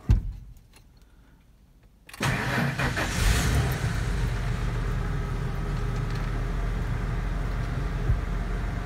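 An OBS Ford F-150 truck starts up after a brief quiet moment, then its engine runs steadily at a loud, close idle-to-rolling drone while the wheels turn.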